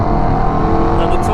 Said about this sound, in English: It sounds like a NASCAR that you just want to rev it and rev it.